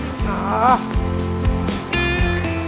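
Mutton liver and tomato sizzle loudly in a pan just after the lid comes off, a dense crackling hiss like rain that runs under someone speaking.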